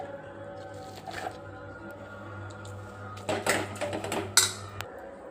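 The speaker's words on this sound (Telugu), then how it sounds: "ఇప్పుడు ఈ పప్పుకు తగినంత మాగాయ పచ్చడి తీసి కలుపుకుంటాను." Cooked dal stirred together with mango pickle in a pot: soft squelching and a few scraping clinks of a spoon against metal over a low steady hum, growing busier toward the end.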